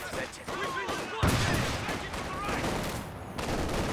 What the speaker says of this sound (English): Here come the snipers.